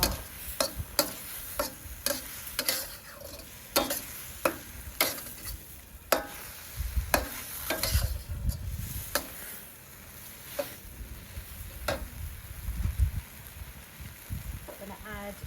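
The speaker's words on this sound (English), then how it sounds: "the tomatoes are cooking down, so they're starting to release liquid into the pan" Tomatoes and beef cooking in a Cuisinart outdoor wok station for Hong Kong style tomato beef, a low sizzle punctuated by sharp regular clicks and taps of utensils against the wok, with a voice talking at times.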